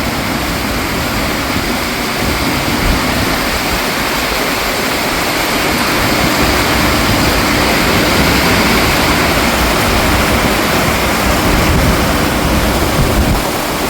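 A dense, unbroken roar of heavy rain pours down loudly and evenly throughout, with no voices.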